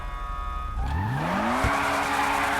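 A front-wheel-drive car in GTA V starts from a hum, its engine note climbing steadily as it accelerates. A short sharp scrape of tire squeal cuts in partway through, then the revving engine carries on loud and close.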